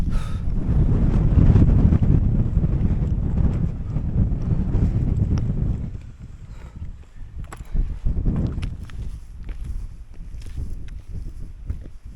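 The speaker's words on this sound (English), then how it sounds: "It's really windy." Strong wind on a mountaintop in the Welsh mountains buffets the microphone in heavy low rumbling gusts that ease partway through, leaving lighter gusting and faint rustles.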